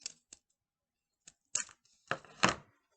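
Scissors snip a small piece of paper or tape down to size for a face sculpture, a few short isolated cuts followed by louder, longer crunching snips, close up with no talking.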